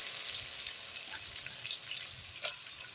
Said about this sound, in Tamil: வெங்காயம் நல்லா வதக்கிப்போம்.